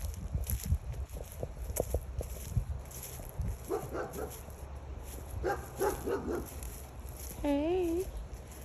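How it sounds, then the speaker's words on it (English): A neighbor's dog barks in a Florida garden, several sharp barks scattered through the clip at middle distance, with a whimpering whine near the end. "that's our neighbor's dog."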